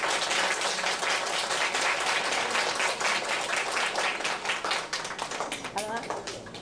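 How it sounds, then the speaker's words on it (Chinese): An audience applauds a teacher at a university science education centre event. Dense, steady clapping thins out in the last seconds while a voice speaks over it. "谢谢各位鼓掌"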